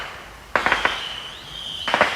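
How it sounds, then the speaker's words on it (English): Fireworks burst in the evening sky on the Fourth of July: a quick cluster of three or four sharp cracks, a lingering whistle-like tone, then another short crackling burst, heard moderately distant with no talking. "I thoroughly expect, because it's not raining, that we will probably see some fireworks tonight."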